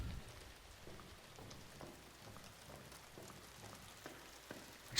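Rain falls steadily in the video game Darq, a soft continuous hiss of drops with faint scattered taps, quiet and even throughout with no voices.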